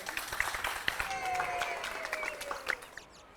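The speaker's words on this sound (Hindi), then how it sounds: "ताली बजाइए।" A neighbourhood audience claps, a patter of applause with scattered sharp hand claps that fades out toward the end, while a voice talks over it.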